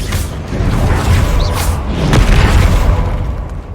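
A Confringo spell explosion in the Hogwarts Legacy video game, a loud, full boom with a rumbling body that sustains and swells again before tapering off, with no voices over it.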